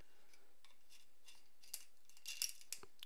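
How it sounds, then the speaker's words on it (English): A small plastic Ninja Turtle pencil sharpener grinds at a pencil in faint, scratchy bursts, the crunching growing louder and denser toward the end in a quiet room. "I don't even know if I still had a pencil sharpener. It's a Ninja Turtle one too."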